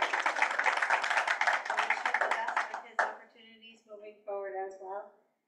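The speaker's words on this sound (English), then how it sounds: "So we should give him a round of applause" Applause from a school committee meeting audience, a short burst of clapping that stops after a few seconds, followed by a voice talking.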